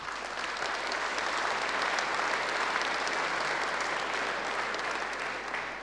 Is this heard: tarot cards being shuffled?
no